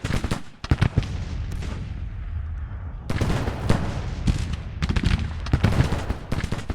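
Skirmishers firing Sharps rifles in the Civil War strategy game Grand Tactician, a dense crackle of overlapping rifle shots with a short lull mid-clip before the volleys resume, loud and close.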